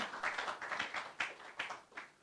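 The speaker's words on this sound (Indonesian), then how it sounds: "Tepuk tangan buat Tuhan" A church congregation claps together in a burst of uneven, overlapping hand claps at a Christmas service, moderately close and lively, with no talk over it.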